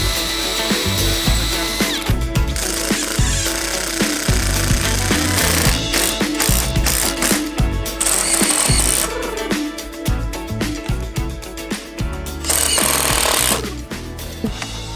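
A power drill drives screws into an aluminum canopy on a fridgebox tiny home, with loud repeated bursts of whirring and grinding that start and stop in uneven runs through the whole stretch.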